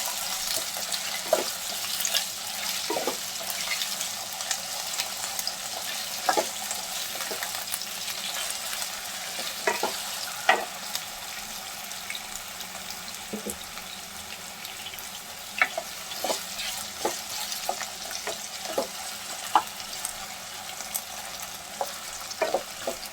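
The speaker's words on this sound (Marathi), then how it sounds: "आपले वांगा बटाटा फ्राय करून घेऊ" Potatoes and eggplant fry steadily in a pan with a soft, continuous sizzle, punctuated by scattered crackles and occasional stirring clicks, with no talking.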